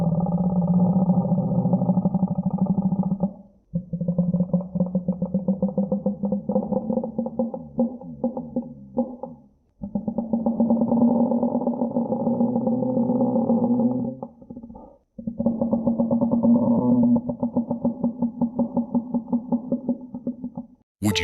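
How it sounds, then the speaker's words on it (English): Leviathan sea monster roar effect: long, loud, low droning growls in several sustained bursts with short gaps, rough and pulsing, alone without talk. "This is the sound of the Leviathan."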